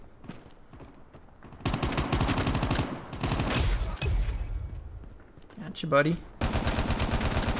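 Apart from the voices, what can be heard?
PDW gunfire in Call of Duty Mobile video game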